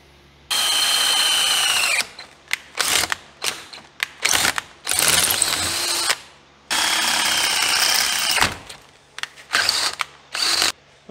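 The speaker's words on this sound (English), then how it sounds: "let's drill this out" A power drill works on a part of a 1940 Chevy coupe in repeated loud bursts. Sustained whining runs are broken by quick stop-start pulses and ratcheting clicks, with near silence between them.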